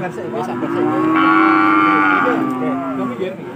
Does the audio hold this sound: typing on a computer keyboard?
no